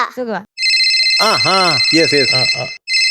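A loud electronic phone ringtone plays in repeating bursts while a person speaks over it close by.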